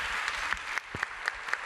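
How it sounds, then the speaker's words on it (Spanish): An audience gives a strong round of applause for the guest panelists at an event, the clapping running throughout while a presenter speaks over it. "Les pido por favor un fuerte aplauso a las invitadas."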